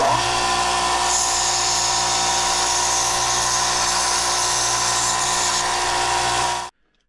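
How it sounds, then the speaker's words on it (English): A power tool whines loud and steady as burrs are trimmed off the cut end of a tube for a large cable lug, running close for several seconds before cutting off abruptly. "We're gonna come over here and trim these burrs off."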